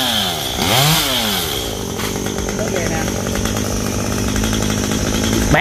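A chainsaw cuts into a tree outdoors under hot 37°C sun, its engine revving up sharply near the start and then holding a loud, steady buzzing whine, close by.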